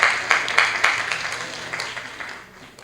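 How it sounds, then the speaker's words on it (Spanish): Audience at an evening law seminar applauding, a burst of clapping with a few sharp accents that fades steadily over a few seconds, moderately loud in a hall. "Unas palmas, por favor."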